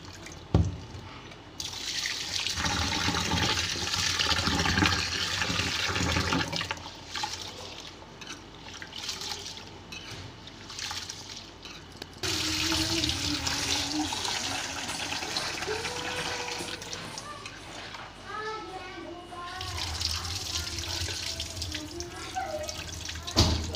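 Urad dal being washed in water in a home kitchen: running tap water and sloshing, splashing liquid in a bowl, in long bursts separated by brief pauses, with a voice talking faintly underneath.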